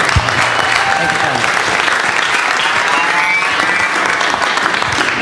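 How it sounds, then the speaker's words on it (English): A press conference audience in Los Angeles gives steady, dense applause for two kickboxing fighters at the K-1 Rising 2012 event. The clapping stays loud and unbroken throughout. "Hand of applause for these two warriors."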